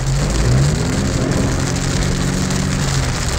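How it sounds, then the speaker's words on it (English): Heavy summer rain pelts down in Big Bear, California, a dense, steady broadband roar of drops hitting surfaces and puddles, with a low engine hum running underneath the whole time and no voices. "this is a pretty heavy rain right here"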